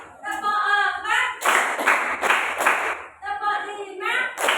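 A standing classroom group claps in a counted pattern, with a voice calling out counts between sharp bursts of several quick, loud claps in a row.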